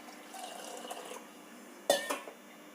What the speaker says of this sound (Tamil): இப்போது இதுக்கு தண்ணி சேர்த்துக்கிறேன்.